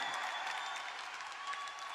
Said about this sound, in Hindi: अरे इस पे तो खड़े होके ताली होनी चाहिए यार